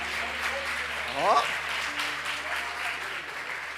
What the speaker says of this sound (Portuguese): As mulheres, aplaude os homens aí